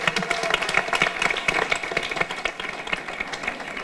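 Audience applause at a local festival gathering, a steady, moderately loud burst of many hands clapping together, continuous and unbroken throughout.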